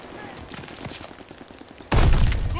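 Gunfire in the World War II shooter Call of Duty Vanguard: scattered, distant-sounding shots crackle under faint voices, then a sudden loud, heavy burst of fire takes over near the end.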